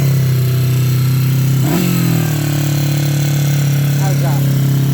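A Moto Guzzi 254 motorcycle engine, cold after restoration, runs steadily with a low loud drone and a brief blip of revving midway; close by, with no clear talk over it.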